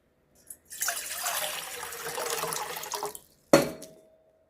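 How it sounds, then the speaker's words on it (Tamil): Water pours steadily into a cooking pot on the stove for about three seconds, then a short splash or clatter follows as the pouring ends. No one speaks. "தண்ணி ஊற்றிக்கலாம்."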